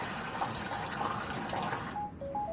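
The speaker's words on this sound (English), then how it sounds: "As the clean water leaves this part of the plant" Treated water flows out of a water treatment plant, a steady close rush of running water with a few faint high tones near the end, no voices.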